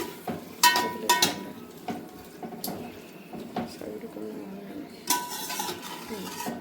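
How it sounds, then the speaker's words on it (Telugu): Vegetable biryani ingredients being mixed in a pot: spoon scrapes and metallic clinks come in irregular bursts, some sharper knocks against the rim, with faint kitchen background. "సో ఇలా మొత్తం నీట్గా అనుకొని మిక్స్ చేసేసుకొని"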